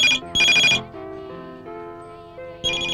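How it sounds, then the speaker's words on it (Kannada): A telephone rings indoors with a bright electronic ringtone. Two short trilling bursts sound up front, a softer melodic tone sustains between them, and a third burst starts at the end. "ಫೋನ್ ರಿಂಗ್ ಆಗ್ತಿದೆ, ರಿಸೀವ್ ಮಾಡ"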